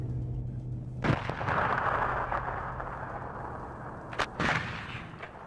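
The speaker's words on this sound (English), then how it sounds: "First rounds are going to go out from our artillery piece." Artillery fire in the video game WARNO: a couple of heavy booming shots, one early and a sharp pair near the end, over a steady rumbling battlefield background.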